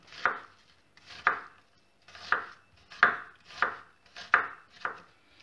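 Knife chopping apple into small pieces on a cutting board for a yogurt breakfast with apples, walnuts and tangerines, seven crisp evenly spaced chops, close and clear with no talk.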